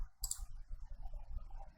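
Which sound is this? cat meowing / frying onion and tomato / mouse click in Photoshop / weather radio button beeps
mouse click in Photoshop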